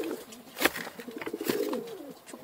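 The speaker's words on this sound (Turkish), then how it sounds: "Posta bunlar. Posta güvercin." Brown-backed carrier pigeons coo in soft, rumbling bursts close by as they peck at bread, with a brief flutter or scuffle midway through.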